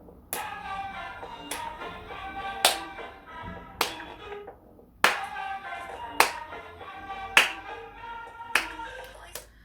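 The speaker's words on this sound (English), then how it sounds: "I'm gonna clap when all these things happen" Sharp hand claps ring out roughly every second over quiet music with a melody, about nine crisp claps standing well above the backing track.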